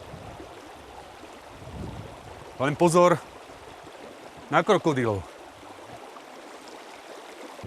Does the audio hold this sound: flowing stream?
yes